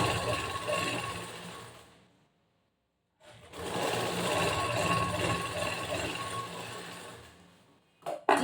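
A sewing machine stitching the front part of a blouse, running in two close, steady bursts with a mechanical whir, separated by a pause of silence and ending with a brief clunk.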